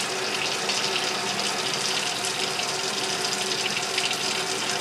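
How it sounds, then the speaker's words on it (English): Hot water sprays steadily onto the probe of an AMIR wireless digital meat thermometer, making a continuous close hiss that runs unbroken and even for the whole stretch. "I'm going to spray hot water on it"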